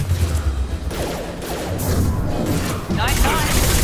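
Gunfire in Mass Effect 2, set in the Omega slums: dense, continuous bursts of shooting with booming hits and mechanical clatter, loud and close, mixed with voices talking over the fight.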